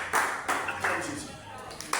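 A church congregation clapping to acclaim Jesus at a French-language service, several sharp claps amid a reverberant hall with voices talking over them.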